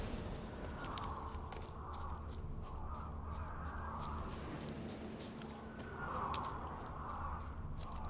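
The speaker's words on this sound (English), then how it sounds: "All I gotta do is follow the cawing." Crows cawing in the open-world fantasy game The Witcher 3: Wild Hunt, repeated caws scattered through a steady outdoor ambience with low background rumble, moderately distant and fairly faint.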